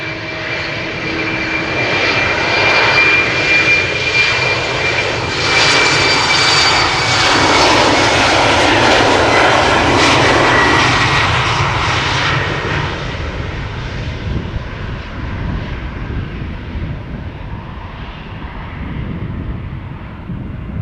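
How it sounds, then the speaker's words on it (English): A KLM Cityhopper Embraer 190 roars on departure at Amsterdam Schiphol, its jet engines loud and close, a broad rushing whine that swells to a peak and then slowly recedes into a fading rumble. "Emperor 190 to Krakow. KLM flight 1327."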